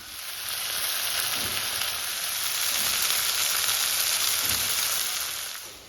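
Tomatoes with salt and turmeric frying in a pan, a loud, steady sizzle with a few soft stirring knocks, and no voices.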